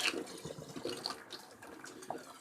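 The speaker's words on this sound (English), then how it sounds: "Just drain the old sink." Water drains from a sink with soft gurgling and trickling, faint and close, with a few small splashes and drips and no talk.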